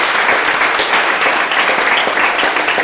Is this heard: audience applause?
yes